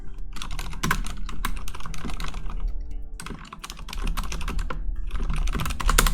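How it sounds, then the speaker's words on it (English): Fast, continuous clatter of keys on a computer keyboard during a Netrunner store championship stream setup, close and busy with a brief slowdown partway through, no voices. "And of course typing, and of course furiously doing things in the background."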